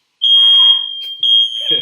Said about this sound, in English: It's a little alarm here.